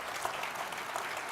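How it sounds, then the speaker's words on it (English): An audience at an Indo-Pacific defense forum applauds the panelists, brisk continuous clapping heard quietly from across the hall. "please, a round of applause for our panelists"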